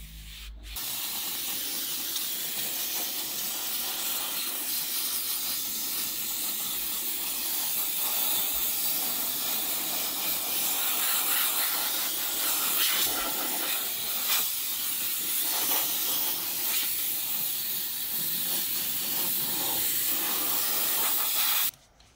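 A steam cleaner hisses steadily while cleaning mould from the interior of a Subaru Impreza STI, a loud, continuous spray close by that runs almost unbroken before cutting off abruptly at the end.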